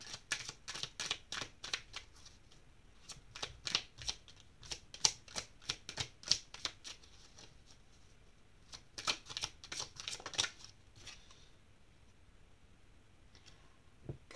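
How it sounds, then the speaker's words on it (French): Tarot cards being shuffled and drawn during a reading, a run of quick crisp riffling clicks and flicks in bursts, close but soft, with quiet pauses between and a calm stretch at the end. "On va tirer d'autres cartes."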